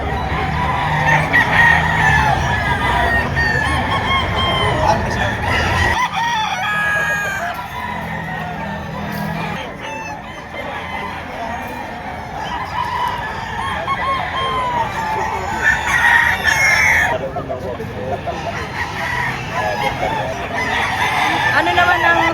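Gamecocks at a crowded poultry market in Padre Garcia, Batangas crow repeatedly and cluck nearby, a steady loud chorus of fowl running throughout with busy background chatter.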